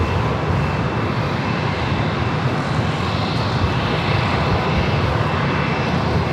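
An American Airlines A321 jet at San Diego airport bound for Dallas Fort Worth, its engines giving a constant loud wash of roar with a thin high whine layered on top, no voices.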